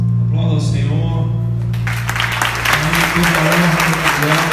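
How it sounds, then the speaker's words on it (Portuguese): A church conference crowd breaks into loud, sustained applause, starting after a held tone and a voice, then dense clapping fills the space for a few seconds under continued speaking. "Aplauda ao Senhor."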